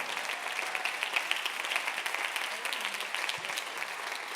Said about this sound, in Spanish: Dale un fuerte aplauso a Dios en su casa.